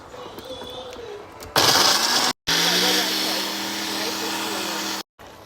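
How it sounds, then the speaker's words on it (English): A Ninja blender whirs loudly while blending ogbono seeds, starting abruptly with a harsh grinding roar that steadies into a sustained motor drone, cut by brief pauses; quiet background sound comes before it starts. "I'm gonna put it in my Ninja blender."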